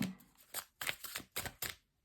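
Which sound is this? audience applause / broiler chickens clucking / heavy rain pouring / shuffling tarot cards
shuffling tarot cards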